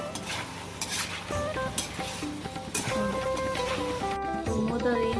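Mango pieces being stirred into a brinjal curry in a pan, with a steady scraping of the spoon over a continuous sizzle and background music throughout.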